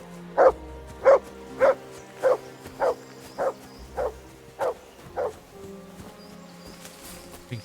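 Mutt the dog barks in the game Kingdom Come: Deliverance II, a steady run of about ten evenly spaced woofs, fairly close, heard alone with no talk.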